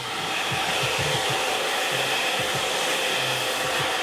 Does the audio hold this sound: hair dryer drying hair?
yes